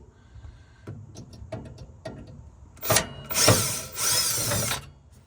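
Large 1.5-inch sheet metal screws are driven by a power drill while repairing a failed RV KwiKee power step, with soft clicks and handling noises first, then several loud whirring bursts of the drill.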